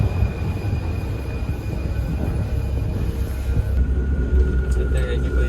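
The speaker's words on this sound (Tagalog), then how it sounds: "Parating yung train," A train pulls into a station in Paris with a steady low rumble of rolling wheels and faint high wheel squeal, while people talk nearby.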